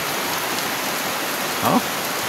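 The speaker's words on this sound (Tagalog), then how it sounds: "Pero lalong lumakas ang ulan, no?" Steady heavy evening rain pours down in a constant hiss during a flood, with a brief faint chirp near the end.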